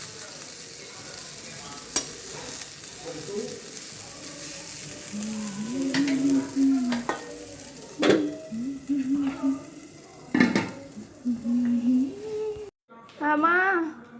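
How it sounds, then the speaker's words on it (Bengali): Thick-cut bitter gourd sizzles and fries in a pan while being stirred, with scraping strokes and a voice talking intermittently close by. "করলাটা একটু মেরে দিই"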